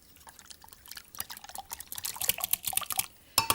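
Egg, milk and Worcester sauce are stirred together for savory muffins, giving soft, irregular wet clicks and splashes that grow busier toward the end, close and faint.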